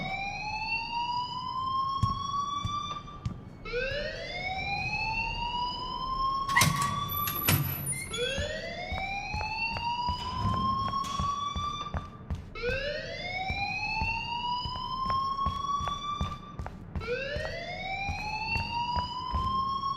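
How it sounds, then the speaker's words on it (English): An alarm in the game Life Is Strange wails in repeated rising sweeps, about one every two to three seconds, loud and continuous with a clatter partway through. "please turn off that alarm since that's your job"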